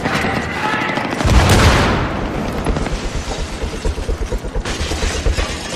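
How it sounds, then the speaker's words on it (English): Battlefield 3 team deathmatch gunfire: a heavy booming blast early on, followed by steady rapid bursts of automatic fire that pulse on through the rest of the clip at a loud level. "Okay, I'm throwing a grenade!"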